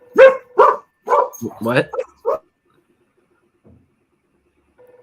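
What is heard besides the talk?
dogs barking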